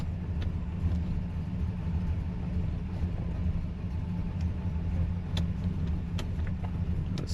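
A Chrysler Newport engine left sitting for 22 years runs steadily after being shifted out of park, a constant low rumble close by, with faint clicks and ticks over the top and no talking.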